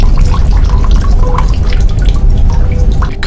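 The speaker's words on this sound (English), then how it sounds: "Night comes and I hear trickling of water." Trickling water heard at night from the room across, a continuous dripping, splashing stream filling the short stretch, fairly loud and close.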